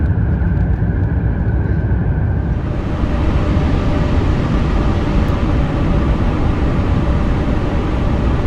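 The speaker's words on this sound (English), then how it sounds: "I'll turn off the auto throttle and the autopilot, and I'll manually land this airplane" A Cathay Pacific Airbus A350 in a flight simulator game gives off a steady, loud engine roar and broadband whoosh. The sound thickens after a few seconds and carries on unbroken, with no speech.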